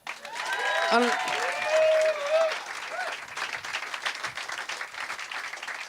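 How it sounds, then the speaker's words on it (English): Audience at a Bright Club Galway comedy-science night applauds the scientists, broad clapping that swells under whoops and speech-like voices early on, then settles into steady, slightly thinning applause to the end. "can we have a massive round of applause for all the scientists that we've seen tonight?"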